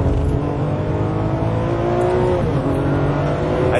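A Ferrari 599 GTB accelerating on the Fiorano track, heard from inside as a steady loud engine drone that climbs in pitch, with a brief dip suggesting a gear change midway, and no talk.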